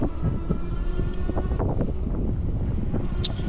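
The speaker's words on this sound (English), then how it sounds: "I couldn't hear anything because it's very windy and loud." Strong wind roars over the microphone while a Raev Bullet GTX electric bike climbs a steep hill, a loud, steady low rumble that fills the whole stretch with no talking.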